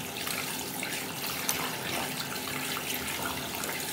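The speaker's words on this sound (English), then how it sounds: "I need to wash my hands though from the slime." Steady running tap water pours over hands rinsing off slime, a continuous close hiss and splash with no breaks and no talking.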